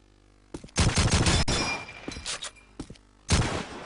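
Rapid bursts of gunfire in a Call of Duty 2 match, loud and close, with a sustained volley followed by scattered single shots and another heavy burst near the end.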